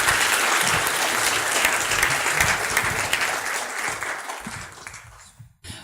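An audience claps warmly for Jean-Pierre Martin, a dense sustained round of applause from a crowd that gradually thins and fades out near the end, with no talking over it.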